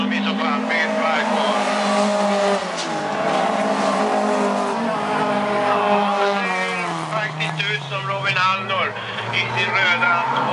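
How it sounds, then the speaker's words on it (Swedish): Rallycross cars in a B-final race on a track at Piteå, engines revving and screaming up and down through gear changes, passing close with tire noise, under continuous commentary. "Ska Hallor från Arjeplog då åka sin första A-final i rallycross?"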